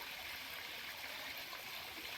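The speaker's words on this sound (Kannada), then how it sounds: "ಬೆಟ್ಟದ ಮೇಲಿಂದ ಹರಿದು ಬರ್ತಾ ಇರುವಂಥ ಈ ನೀರು ಸಣ್ಣದಾಗಿ ಹರಿತಾ ಇರುವಂಥ ಜರಿ" A small hillside stream on the trek to Maharajakadai fort flows in a soft, continuous, faint rushing trickle, alone with no voices.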